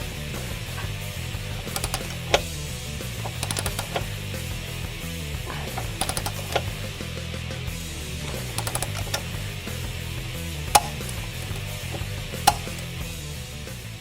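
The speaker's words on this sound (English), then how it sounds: "Now we can move on to tightening the bolt between the bracket and the mount." A wrench tightens the bolt between the bracket and rear motor mount on a 2013-2018 Ford Focus ST, giving scattered sharp metallic clicks and ticks over a low steady background hum.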